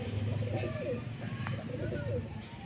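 A pigeon coos close by in repeated soft throaty rolling phrases, with faint background noise.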